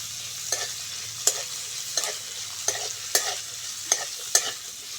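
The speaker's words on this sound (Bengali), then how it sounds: "পেঁয়াজ ভালো করে ভেজে নিয়েছি" Chopped onions frying in oil in a wok, a steady close sizzle punctuated by regular scrapes of a spatula roughly every second.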